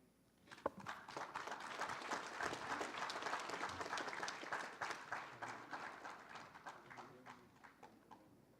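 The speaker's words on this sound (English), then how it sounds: "Let's give everyone another round of applause." At a centennial celebration, an indoor audience breaks into a round of applause that rises quickly into dense, sustained clapping, then slowly thins out and fades.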